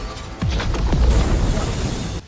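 A booming spiritual explosion effect from an animated fantasy series, a loud burst that swells and rumbles for about two seconds before cutting off.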